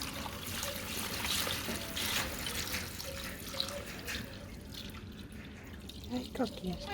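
Liquid is poured, running and trickling steadily for several seconds, then a few small drips and splashes near the end, with faint background noise.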